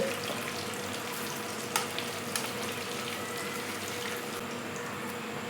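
Chicken pieces frying in oil for a crispy chicken fry, with a steady broadband sizzle and a few sharp crackles and pops, heard close and alone without talk.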